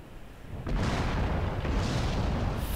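Tank cannon fired in a tank combat video game, a sudden loud boom that swells into a sustained rumbling explosion, preceded by quieter background noise.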